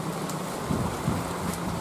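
Rain falls steadily as black volcanic crater sand is loaded outdoors, a dense continuous hiss with a few soft thuds, close and fairly loud with no talk.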